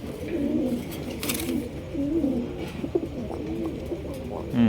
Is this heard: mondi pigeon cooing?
yes